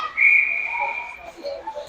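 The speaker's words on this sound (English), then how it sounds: "What do we got? Whistle here." A referee's whistle blows sharply at an ice hockey game between the Caps and Indy Fuel, one sustained high blast followed by fainter arena noise and crowd murmur.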